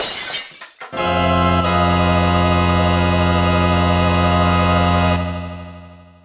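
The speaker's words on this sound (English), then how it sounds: "I tipped over a glass and it broke everywhere and shattered into a million" A drinking glass tips over and shatters in a short burst of crashing, tinkling fragments, followed by a long, loud, steady tone.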